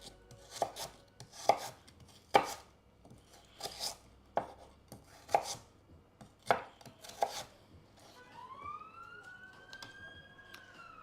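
Vegetables chopped for a sofrito on a cutting board: about eight sharp, close knife strikes at an uneven pace, then a rising and falling siren wail drifts in from a distance near the end, with no talking.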